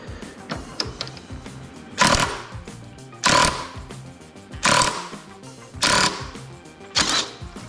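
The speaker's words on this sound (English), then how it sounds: "I'm going to use an impact driver to try to spin this off of here." Impact driver hammering a nut off the rear motor of a Husqvarna 430X AutoMower robotic lawn mower: five loud, rapid rattling bursts about a second apart, each a brief buzzing hammer run, close up with no talk.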